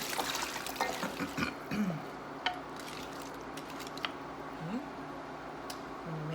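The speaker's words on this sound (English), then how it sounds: "I'm gonna use the water that I soaked the potatoes in. I'm gonna put those in right now." Water from soaked potatoes is poured into a hot stew pot, making a soft trickling, splashing stream with occasional clinks, steady and close, and no voices.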